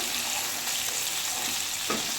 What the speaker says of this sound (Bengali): এই যে চিকেনটা আমি ভেজে নিচ্ছি হালকা করে আস্তে আস্তে